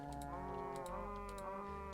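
Cows mooing in the farming card game Terracards, a steady, sustained bovine lowing with layered harmonic calls over a constant background music bed, no talking.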